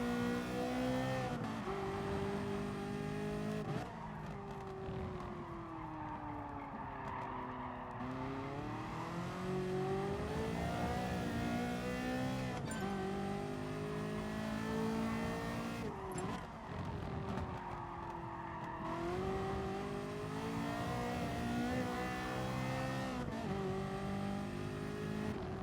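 A Porsche race car revs in the video game GT Sport, its engine climbing and dropping through gear changes over a long, steady stretch, with occasional tire squeal and passing cars, rather faint and with no talking.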